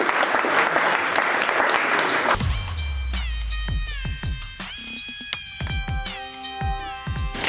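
A press-conference crowd applauds fighters at a GAMA Fury MMA event, with dense clapping filling the first two seconds before it cuts to louder, tonal sounds with sharp hits.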